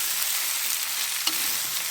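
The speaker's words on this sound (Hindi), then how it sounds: "और आलू को ना थोड़ी देर इसमें ऐसे ही फ्राई करेंगे" Potatoes fry in oil in a pan, giving a steady, soft sizzling hiss throughout with one brief louder crackle near the end, close by and without voices.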